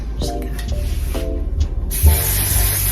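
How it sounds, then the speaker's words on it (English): Close bursts of aerosol hairspray (Pantene Stronghold) misted onto curled hair, a few short hissing sprays in quick succession with a longer, louder spray toward the end. "This is just the Pantene Stronghold hairspray"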